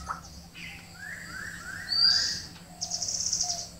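Birds call around a forest watch tower at Chakrasila, Bedlangmari, a few short chirps and rising whistled notes scattered over faint background hiss, fairly close and clear, with no talking.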